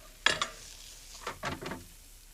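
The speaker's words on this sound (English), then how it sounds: "I'm gonna throw the spring onions straight in, and we're just gonna give these 2 minutes of frying" Spring onions sizzle in a pan with a couple of sharp clatters at the start, followed by a few bursts of frying crackle and stirring, fairly quiet.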